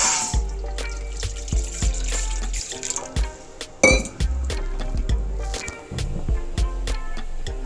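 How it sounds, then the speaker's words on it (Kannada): Water pours from a glass into a pot sitting on a stove, splashing and trickling in short bursts, with a few metallic clinks of the vessel and no voices. "ಅದಕ್ಕೆ 2 ಗ್ಲಾಸಷ್ಟು ನೀರು ಹಾಕ್ತಾ ಇದ್ದೀನಿ"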